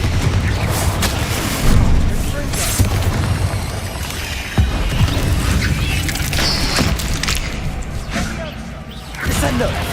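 Explosive Confringo spell blasts from Hogwarts Legacy boom and crash one after another over a busy, loud battle mix, with whooshes between the hits.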